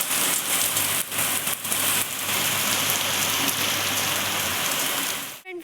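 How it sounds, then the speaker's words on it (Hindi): Loud, dense rain pours steadily onto a surface, a constant hissing roar close by that cuts off abruptly at the very end. "बारिश बहुत तेज़ हो रही है"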